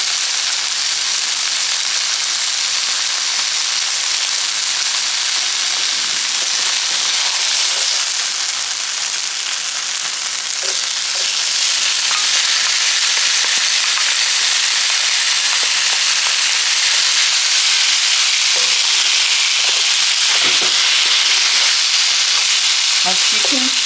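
Vegetables for a Ghanaian cabbage stew cook in a pot, giving a loud, continuous hissing sizzle that swells after more are added, with occasional stirring clatters near the end.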